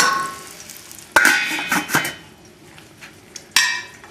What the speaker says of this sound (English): we're going to put this lid on here